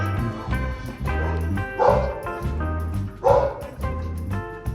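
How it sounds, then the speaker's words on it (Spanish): A small dog barks repeatedly from below in a house, sharp yips and bow-wows in uneven bursts, moderately loud over a steady tonal background with no talking. "nos acompaña en la parte de abajo un perrito que está ladrando"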